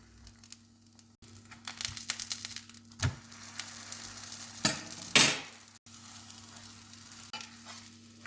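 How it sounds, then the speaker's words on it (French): Crêpe batter sizzles steadily in a hot frying pan while being swirled around the pan, with a few louder crackling bursts, a soft scraping stir, and a faint low hum underneath; no one speaks. "Pendant la cuisson, moi je vous invite à faire le tour de la poêle, à tourner la pâte de temps en temps"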